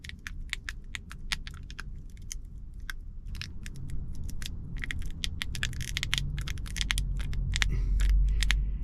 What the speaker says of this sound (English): Something is not quite right about these new glasses. Got a bit of a crispy, crunchy quality to them.